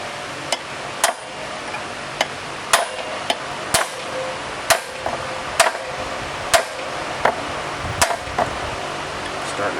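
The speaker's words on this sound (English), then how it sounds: "We are going to punch the rest of this out" Sharp metallic taps of a hammer driving a punch into an aluminum water pump from a 1994-96 Impala SS ring out about once a second, each strike crisp and close over a quiet, hissy background.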